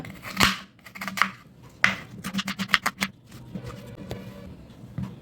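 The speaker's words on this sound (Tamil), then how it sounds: "வெங்காயம்லாம் கொஞ்சம் பெருசாகவே கட் பண்ணிக்கலாம்" Crisp crunching chops of a knife slicing onion into large pieces, a quick run of rhythmic cuts on a board, close and alone.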